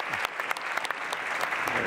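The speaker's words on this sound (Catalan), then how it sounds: "Vinga, un altre aplaudiment." A short burst of audience applause at a school technology event in Catalonia, moderately loud with scattered sharp claps and a faint voice.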